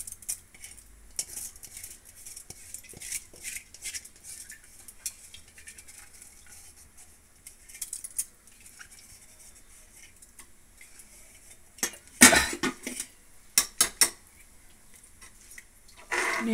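Washed Sona Masoori rice is stirred and mixed in a pot for egg biryani, with a quiet, steady scraping and grainy patter, then sharper metallic clinks and scrapes of the spoon near the end.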